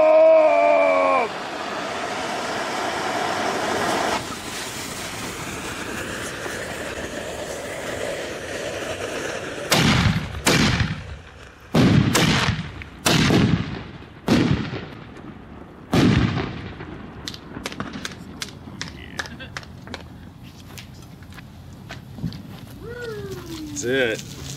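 Excalibur 60 gram firework mortar shells bursting in a fast series of loud, sharp booms, several close together then spaced apart, after a stretch of quieter rumbling.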